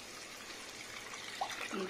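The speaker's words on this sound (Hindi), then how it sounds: "अब हम इसके अंदर पानी ऐड करेंगे।" Water poured into a cooking pan while preparing samak rice for a fast, a steady close trickle and splash running throughout at low level.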